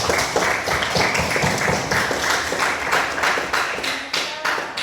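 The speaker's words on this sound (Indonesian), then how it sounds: "tepuk tangan untuk kita semua" A classroom of children claps together at a teacher's call, a dense run of sharp hand claps lasting several seconds at steady moderate loudness, some claps sounding as taps and thuds.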